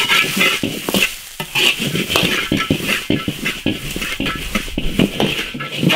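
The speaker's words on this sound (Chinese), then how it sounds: "然后把那个蚕蛹给它炒均匀" Silkworm pupae and cartilage stir-fried in a wok, a spatula scraping and clattering in an irregular rhythm over a constant sizzle of hot oil, close and loud.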